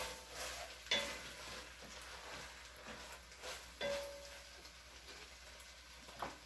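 Bolognese sauce is stirred in a pan, a soft, faint sizzle and scraping of the spoon with a few brief clinks of utensil against the pan, alone without talk.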